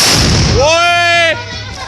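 Firecrackers set off outdoors at a village gathering, one sharp loud blast with a ringing whistle-like tone that fades over about a second.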